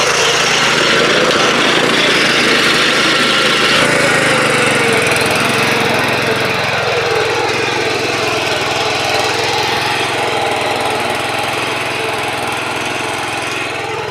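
A power weeder's small engine runs steadily and loudly throughout, a continuous rattling drone with a slight shift in pitch partway through.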